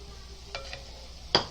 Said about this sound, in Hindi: अभी थोड़ा सा 3 टेबल स्पून मकई का आटा डालेंगे। इसको अच्छे से उसके अंदर भूनेंगे।